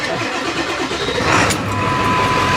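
A Power Stroke diesel truck engine turns over and catches, the cranking settling into a loud, steady idle rumble heard close by without any talking.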